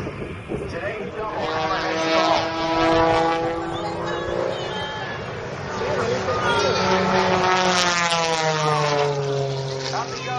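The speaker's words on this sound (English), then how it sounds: "He'll throw the airplane into a violent tumble." A propeller airplane engine roars during an aerobatic airshow routine at Wings over Houston, rising and falling in pitch as the plane climbs and tumbles, loud and continuous, with an announcer talking over it.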